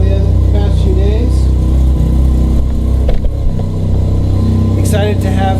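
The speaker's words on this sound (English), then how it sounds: "Hope you guys can hear me okay over the FC idling, but even if you can't, I hope you're enjoying the tone of the exhaust." A 1988 JDM Mazda RX-7 FC3S with its rotary engine idles loudly and steadily, a deep continuous exhaust drone, while someone talks over it throughout.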